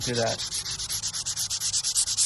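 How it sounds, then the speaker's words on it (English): Hand sanding the wood of an antique dining table with sandpaper, a brisk, regular back-and-forth scratching in close, even strokes, about eight per second, with nothing else heard. "I'm going to put extra pressure onto the sandpaper"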